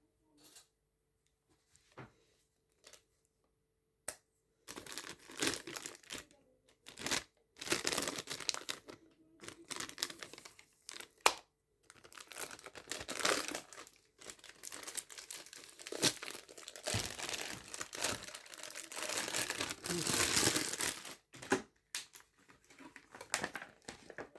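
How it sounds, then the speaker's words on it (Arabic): A plastic bag of date filling for Syrian maamoul is opened and handled close up, crinkling and rustling in irregular bursts with short quiet gaps between them. "بالاول راح افتح الكيس هون"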